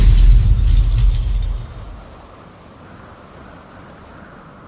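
Heavy rain and a deep rumble of thunder from a Witcher 3 storm, loud at first, then fading within two seconds to a soft, steady patter of rain.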